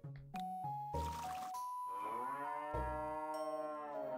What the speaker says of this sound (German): Da haben wir schon mal Kuh Nummer 2.